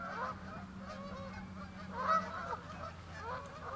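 Several geese honk repeatedly at moderate distance, their calls overlapping over a low steady hum of background noise.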